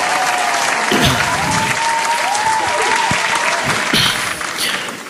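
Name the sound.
audience applause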